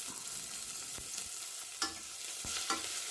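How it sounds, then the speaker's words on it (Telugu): Curry leaves sizzle in hot tempering oil for an Andhra-style spinach dal while being stirred, giving a steady close frying hiss broken by a few sharp crackles and spoon taps, with no talk. "తిరగమాత మాడకుండా బాగా కలుపుకుంటూ ఉండాలి. ఇప్పుడు కరివేపాకు."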